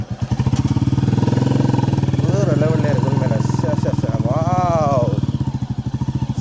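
A brand-new Royal Enfield motorcycle riding through Jaffna, its thumping engine loud and close with a rapid, steady pulse, while a rider talks over it.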